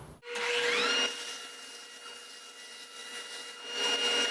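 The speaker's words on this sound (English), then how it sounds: "I'm using the bandsaw to make the hardwood go a little further" Bandsaw with a thin-kerf blade ripping a hardwood reinforcing strip for a storage box panel, a loud steady whine with a bright start, then a softer sustained hum that swells again near the end, with no talk.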